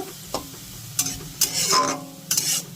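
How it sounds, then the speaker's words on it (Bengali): Onions frying into beresta sizzle quietly in a pan, with a few sharp scrapes and clinks of a stirring utensil spaced across a short moment. "এটা বেরেস্তা ভাজছি, বেরেস্তাটা এবার তুলে নেব।"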